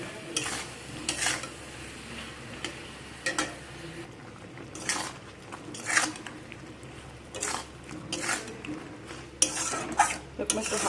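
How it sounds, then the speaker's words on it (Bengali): Mango pickle is gently stirred in a pan with melted sugar, producing soft intermittent scrapes and utensil taps against the pan in irregular bursts over a faint background. "এরকম একটু হালকা হাতে নাড়াচাড়া করে দিতে হবে মাঝে মাঝে"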